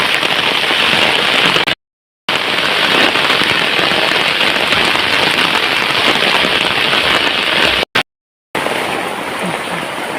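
Heavy rain pours during a ride on a two-wheeler with a passenger behind, a loud, continuous roaring wash broken by two short gaps, with no talking.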